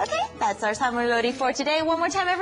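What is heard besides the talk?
No everyday noise stands out behind the speech.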